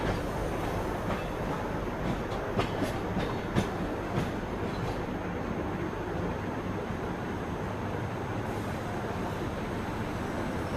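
A Mumbai–Howrah Duronto Express train runs on rails through the Bilaspur division, giving a steady, loud, continuous rumble and rattle with a few faint clicks, and no voices.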